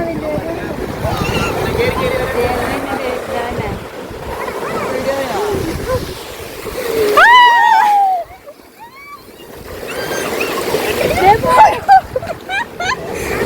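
Big sea waves wash and splash around a small boat out at sea, with loud rushing water and wind buffeting, broken by a brief lull before the surge returns, while people's voices and shouts rise over it.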